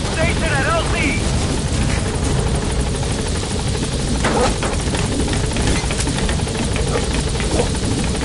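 Support helicopter from Metal Gear Solid V arriving at a landing zone, a loud steady rotor drone and engine roar filling the whole stretch, with radio-style voices talking over it.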